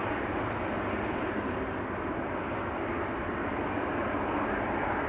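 A KLM airliner departs Amsterdam Schiphol, its engines giving a steady, dense broadband roar that holds level and loud throughout with no voices.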